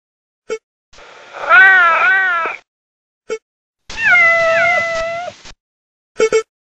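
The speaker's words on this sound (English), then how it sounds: "Cat." A cat gives two long, drawn-out meows, close and clear, framed by a few short clicks at the start, middle and end.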